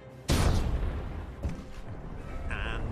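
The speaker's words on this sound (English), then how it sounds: "Depth charges are very large explosions." A heavy, deep boom of a depth charge explosion bursts out suddenly, rumbling on with a lower second thud and muffled underwater-like noise following.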